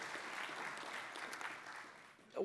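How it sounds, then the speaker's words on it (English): Audience clapping at a conservative policy summit, a steady wash of applause held at moderate level through the whole stretch, with a brief louder voice-like burst near the end. "please clap, because it deserves it"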